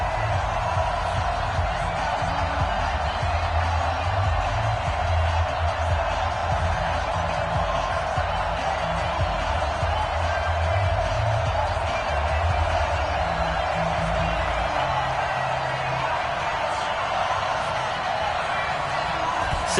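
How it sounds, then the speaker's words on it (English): Stadium crowd in a Redskins vs 49ers football video game, a dense, steady wash of crowd noise and cheering that stays at an even level throughout, with a commentator's voice speaking over it. "this crowd is pumped up as their Redskins get set to match up with the San Francisco"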